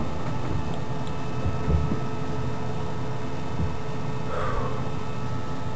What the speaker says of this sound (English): The sound you're hearing right now is my computer motor running.